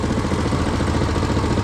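A Muravey motor scooter engine pulls away in first gear, a steady, close, rough mid-to-low drone with an even throbbing texture and no voices.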